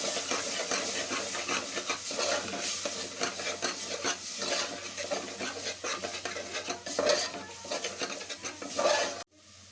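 Tomato paste frying in a pan for a green gram gravy, with a continuous close sizzle and repeated scraping strokes of a spoon stirring, ending in a sudden cutoff.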